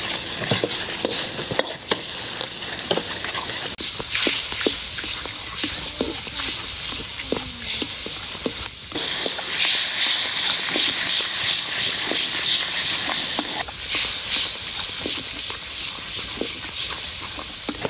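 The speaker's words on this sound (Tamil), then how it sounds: "இந்த பட்டரை போட்டு நல்லா இதை கொதிக்க விடுறா." Margarine bubbling and sizzling in a pan while dal rice is prepared Batticaloa style, a steady close frying hiss with occasional stirring clinks, alone without talk.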